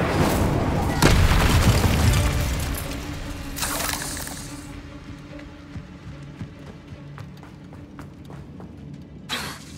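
Bombarda exploding spell in Hogwarts Legacy inside a tomb, a loud booming blast with shattering debris early on, then a second sharp burst, over a low rumbling game ambience.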